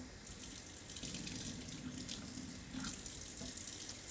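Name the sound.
tap water running while cleaning a valve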